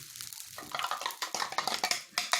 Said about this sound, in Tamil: லோ ஃப்ளேமில் வச்சுட்டு தோசை ஊற்றுங்க.